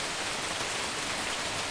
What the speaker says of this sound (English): So we've got pelting hail.